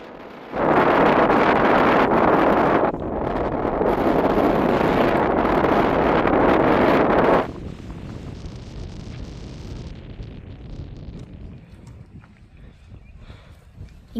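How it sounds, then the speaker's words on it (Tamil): Strong wind on the mountain peak trail at Meesapulimala in Kerala buffets loudly and roughly for several seconds, then drops to a lower, gusting rumble. "இங்கெல்லாம் பயங்கரமான காற்றுங்க, நம்மளே பறந்துருவ மாட்டிருக்கு."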